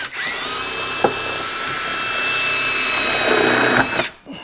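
A power drill drives a 5/16-head self-tapping screw into a Kawasaki Teryx upper door extension, a loud, close, steady whine with a couple of brief knocks before it cuts off sharply, no talking.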